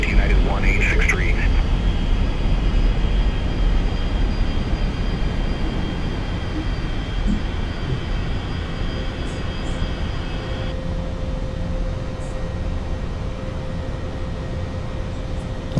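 An Airbus A320 takes off in Microsoft Flight Simulator 2024, a steady loud jet engine roar with a high whine holding evenly through the takeoff roll, while a cockpit voice and radio chatter sit underneath.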